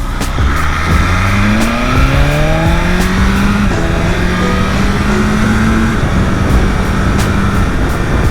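A BMW S1K superbike on a highway group ride, its engine loud and continuous, the pitch climbing in repeated rising sweeps as it accelerates through the gears, with wind noise underneath.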